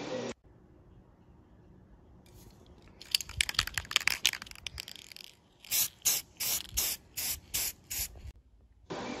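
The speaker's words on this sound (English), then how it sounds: "now basically what we just need to do, since we have the front and back done, is move on to the sealer and put on some high gloss clear" High gloss clear sealer is sprayed onto a homemade Iron Spider helmet, first a longer uneven hissing stretch, then about seven short evenly spaced bursts of spray, close and loud against a quiet room.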